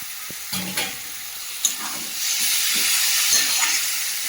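Meat dropped into spice paste frying in oil sets off a loud, close sizzle that swells into a steady hiss, with a few stirring knocks and scrapes early on and no talk.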